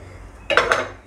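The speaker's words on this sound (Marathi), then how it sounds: "आता आपण हे घेतलेले 1 वाटी बेसन पीठ या भांड्यामध्ये टाकूया।" One bowl of besan (gram flour) goes into a metal pot in a kitchen. A short, close clatter of metal on metal lasts about half a second in a quiet room.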